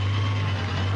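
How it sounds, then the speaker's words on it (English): Al Holbert's Porsche 962 race car engine runs as a loud, close, steady low drone that stays level over a brief moment. "Holbert revs the engines."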